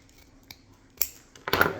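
Scissors cutting folded material for a homemade Easter basket, a few quiet separate snips and clicks, the last one a brief louder crunchy cut, close up with no talking.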